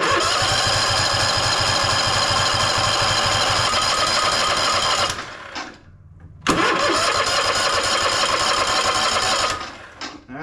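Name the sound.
Toro Timecutter zero turn mower engine cranking with choke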